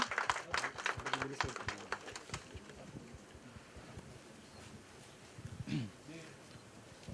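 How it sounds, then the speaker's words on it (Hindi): An audience at an album launch claps loudly for the first couple of seconds, the applause thinning and fading as a voice speaks over the room. "गाइस एक बार फिर से जोरदार तालियां।"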